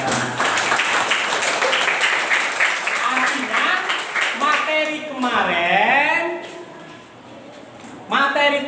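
Classroom applause from students during a lesson, rapid overlapping hand claps filling the first half, then a teacher talking as the clapping fades.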